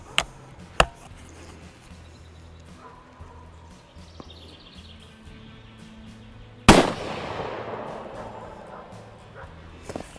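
Rifle shots fired downrange at a target about 100 yards away through a scoped rifle: a few sharp, widely spaced cracks, the loudest one near the end followed by a lingering echo.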